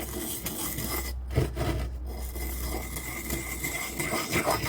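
One steel scissors blade, freshly sprayed with WD-40 lubricant, is sharpened with fine cutting strokes, giving a steady close-up rasping scrape that runs continuously without talk.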